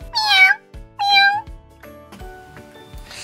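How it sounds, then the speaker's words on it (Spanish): A cat meows twice, clear and close, followed by a few softer knocking and shuffling sounds. "sonido que hace el gato. ¡Miau, miau, miau, miau, miau!"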